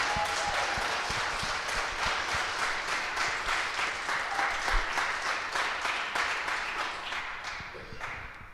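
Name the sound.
audience applause for a panel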